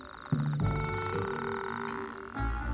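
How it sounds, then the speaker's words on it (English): A male toad calls from a desert wadi to court females, giving a loud, sustained pulsing croak with more croaks overlapping in the background. "Soon there's a choir of toads, a chorus of single males, trying out their best chatter lines"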